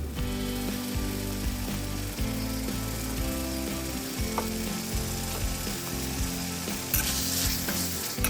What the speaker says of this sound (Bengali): এখন মাংসটি রেডি করার জন্য কড়াইতে ম্যারিনেট করা মাংসটি ঢেলে দেব।